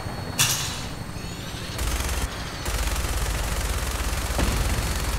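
A minigun in Fallout 4 fires in long, continuous rattling bursts, loud and mechanical, with short pauses between volleys.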